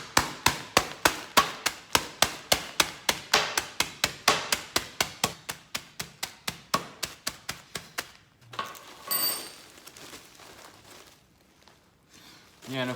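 A hammer smashes dry ramen noodles sealed in a Ziploc bag, landing about two dozen quick, evenly paced thuds over roughly eight seconds, followed by softer rustling and crinkling of the bag.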